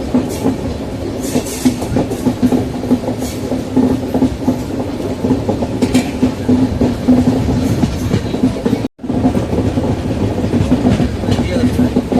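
Kanniyakumari–KSR Bengaluru express train hauled by a WAP-7 electric locomotive, heard from on board as a loud continuous rumble with rhythmic clickety-clack of wheels over rail joints and a brief dropout partway through.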